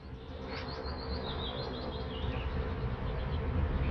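Bees buzzing inside a busy beehive, a steady dense drone with faint higher whines drifting over it, close and continuous throughout.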